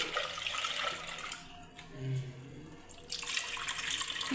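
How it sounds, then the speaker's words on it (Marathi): Toor dal is rinsed with water, a close, steady rush and swish of washing that pauses briefly in the middle before resuming. "पुन्हा एकदा पाण्याने धुवून घेते"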